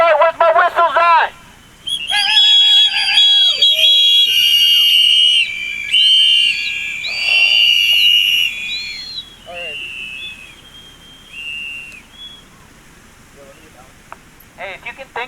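Shrill whistles blown by protesters at an Extinction Rebellion climate emergency rally, several loud overlapping blasts and trills, with a brief pause and a few scattered toots near the end.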